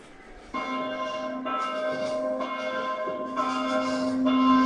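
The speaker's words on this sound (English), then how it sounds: "The curfew bell." A curfew bell in Sandwich, Kent, rings with a sustained, ringing metallic tone, struck repeatedly and overlapping in a slow rhythm, moderately distant and steady in loudness.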